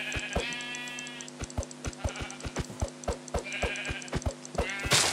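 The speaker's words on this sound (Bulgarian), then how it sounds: "Карай, ще убия овцата, лагва на лагва." Sheep bleating in Minecraft: several repeated short, wavering bleats spread across a few seconds over steady rhythmic game clicks and thuds, ending in a louder burst of noise.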